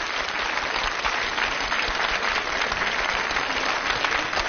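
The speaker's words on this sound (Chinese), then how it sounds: "掌声欢迎他们" A studio audience at a children's television show applauds to welcome a young children's choir, producing dense, even clapping that holds steady and loud throughout.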